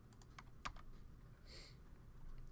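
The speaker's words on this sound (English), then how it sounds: "I'm going to hit C on my keyboard" A few soft clicks from a computer keyboard as a key is pressed during 3D chair modeling on a computer, faint and close, heard alone with no talking.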